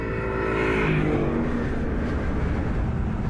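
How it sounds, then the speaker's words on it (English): Aston Martin Vantage S V8 sports car, a tweaked V8 with a remapped exhaust bypass, roaring loud and close as its engine note climbs then settles into a steady rumble. "This is the Vantage S, a tweaked version of the already potent V8 sports car."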